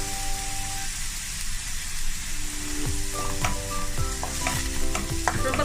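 Curry leaves and coriander sauté in a pan, a bright continuous sizzle with scraping stirs of a utensil marking the second half, close and alone without talk.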